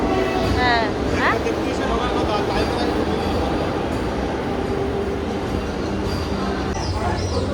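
A Vande Bharat Express train runs with a steady, loud rumble and rattle, heard from on board. Brief voices rise over the noise near the start.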